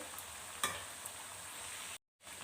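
Thin potato kachrya slices frying in a pan of oil, a steady broadband sizzle with a brief louder crackle early on and a short cut in the middle, no talking.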